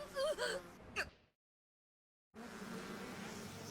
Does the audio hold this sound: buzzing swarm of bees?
yes